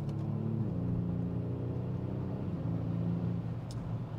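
Kia Stinger GT V6 engine driving at night on a cold, leaf-covered road: a steady low drone with harmonic tones that shift pitch as the engine works, continuous and moderately loud throughout.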